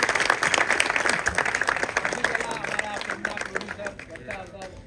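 Audience applause at a movie premiere for the new film Frendo, a dense burst of clapping from a crowd that tapers slightly over about five seconds, with faint crowd murmur underneath.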